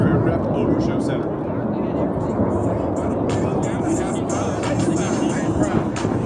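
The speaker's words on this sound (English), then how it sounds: "observe as both pilots sustain 6 times the force of gravity to cross their aircraft over show center" Blue Angels jet aircraft cross over show center at an air show in Los Angeles, making a loud, continuous broadband roar that holds steady throughout and is mixed with crowd or announcer noise.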